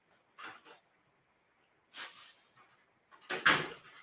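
A mother dog with puppies gives a few short whimpering barks and yelps close by, in three separate bursts across a few seconds.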